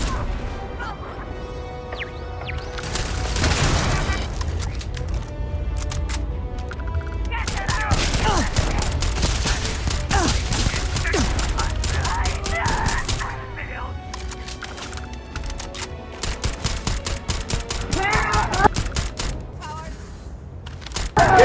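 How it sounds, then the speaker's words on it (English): Suppressed gunfire in Starfield Shattered Space, rapid volleys of muffled shots and impacts sustained throughout, with speech over the top. "I switched out my muzzle brake with the suppressor this time"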